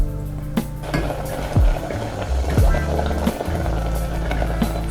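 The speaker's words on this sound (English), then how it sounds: "Stir consistently for about 5 minutes until you reach the desired consistency" Oatmeal with pumpkin spice being stirred in a pot on the stove, a spoon scraping and knocking against the pot in a few distinct strokes over a steady low cooking hiss, close and fairly loud, with no talking.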